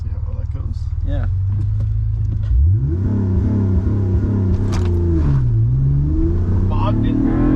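An Acura TL 3.7L car engine idles, then revs hard and surges as it launches, rumbling loudly and rising in pitch, with shifting engine tones throughout.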